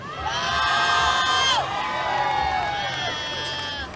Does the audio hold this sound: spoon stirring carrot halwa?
no